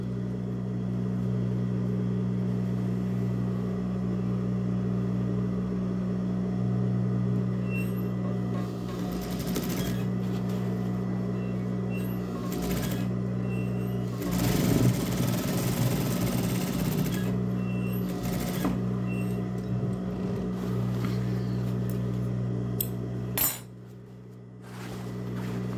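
A sewing machine stitches a lined Barbie doll skirt, a steady close mechanical hum and whir running without a break and rising briefly midway, with no talking.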